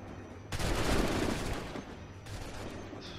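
Musket volley in Assassin's Creed III, a sudden loud massed burst of gunfire that rings out and decays over about two seconds, followed by a second, quieter crackle.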